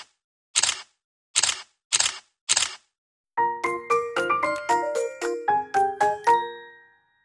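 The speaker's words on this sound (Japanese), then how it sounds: "撮影ボタンを1回短く押すと、 この状態から写真撮りたいと思います" A keyless-style mini camera shaped like a car key fob, taking a photo. Four short, crisp shutter clicks are followed by a bright sequence of electronic chime beeps, close and clear with no talking.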